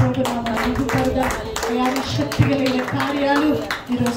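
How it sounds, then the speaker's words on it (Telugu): Loud rhythmic clapping by a church gathering, keeping a steady beat alongside singing voices. "గట్టిగా చప్పట్లు కొడుతూ"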